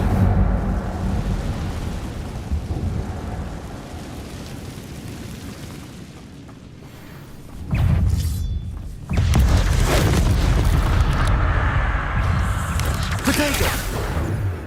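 Incendio fire spells cast in the Hogwarts Legacy video game, heavy booming whooshes of flame that swell suddenly and roar loudly, following a quieter rumbling stretch.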